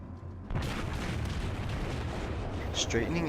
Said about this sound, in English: Straightening out and returning the fire at my attackers